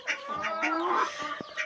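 A turkey settled into a coop for the evening, giving a few close, short clucking and gobbling calls in quick succession, with no talk over them.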